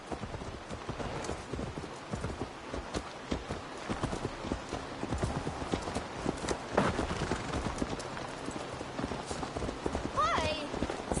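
Horse hooves clip-clopping at a steady walking rhythm in Assassin's Creed Valhalla, moderately quiet and continuous, with voices speaking over them throughout.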